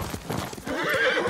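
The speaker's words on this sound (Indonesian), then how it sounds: "Kuda gua di belakang tuh kan?" A horse in Ghost of Tsushima clops its hooves quickly and closely, then breaks into a short neigh, all within a brief moment.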